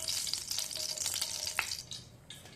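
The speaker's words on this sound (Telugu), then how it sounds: "నేను ఇక్కడ స్టవ్ ఆన్ చేసి ప్యాన్ పెట్టుకున్నాను. ఇందులో కొద్దిగా ఆయిల్ వేసుకోవాలి." Oil sizzles steadily in a pan on a stovetop burner, heated for tempering spices. The crackling hiss is continuous and close, easing slightly toward the end, with no voices.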